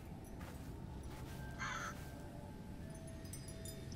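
A bird caws once in the video game Fairwalk: The Past, an Alice in Wonderland-themed adventure, as a short, hoarse call over a steady ambient game background.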